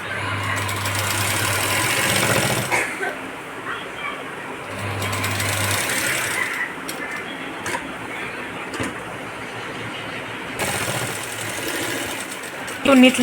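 A sewing machine stitches the edge of a Paithani silk blouse with a steady, close mechanical whir that stops and starts in long runs, while a person talks over it.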